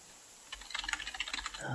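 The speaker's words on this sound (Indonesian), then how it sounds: "Ketika saya mengetik" Rapid keystrokes on a computer keyboard clatter in an uneven run of light, close clicks during spreadsheet work, over a steady background hiss.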